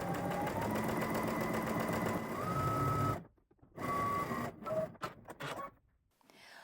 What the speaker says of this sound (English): You're gonna stitch a 1/4 inch seam allowance.